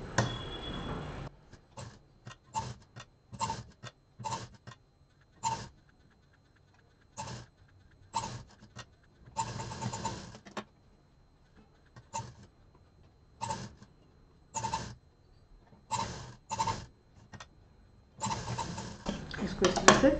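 A sewing machine stitches a fitted fabric scrub cap in a series of short, whirring bursts, each a second or so long, separated by quiet pauses as the fabric is repositioned.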